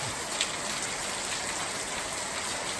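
Steady rain patters down during a village walk in Nepal, a soft continuous hiss of drops with no speech.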